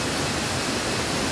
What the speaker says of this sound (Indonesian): Suara gemuruh air terjun yang sangat menyegarkan dan membuat pikiran kita tenang.